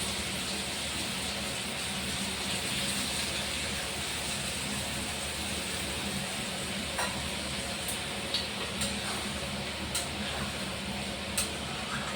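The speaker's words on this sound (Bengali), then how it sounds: "জল দিয়ে দিচ্ছি।" Water added to a pan of cooking chicken curry gives a steady, quiet sizzle and bubbling hiss, with a few faint clicks and taps toward the end and no voices.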